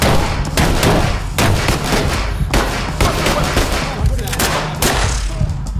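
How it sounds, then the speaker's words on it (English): Rapid gunfire in the tactical shooter Ready Or Not during a police raid on a fast food restaurant, with loud, dense bursts of shots and sharp cracks crowding the whole stretch. "Shots to left."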